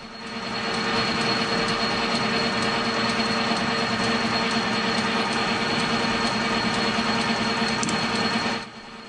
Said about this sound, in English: I'll go ahead and clean up the end here, and we can get to finishing the machining of the diameter of this boss for